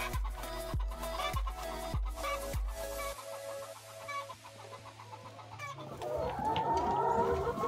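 Chickens on a poultry farm cluck and crow close by, a run of sharp rhythmic calls followed by steady clucking and a busier flock chorus near the end, with no talk.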